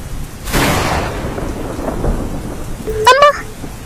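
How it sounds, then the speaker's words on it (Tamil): Heavy thunder rolls in with a loud crack, then rumbles on under steady rain, followed by a short tonal sound near the end. "ஐயோ, இடி சத்தம் வேற கேட்டுக்கிட்டே இருக்கு."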